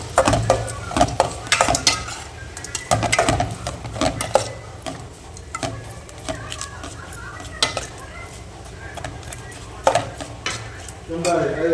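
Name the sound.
stirring potato chicken curry in a pot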